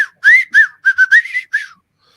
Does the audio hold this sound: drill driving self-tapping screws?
no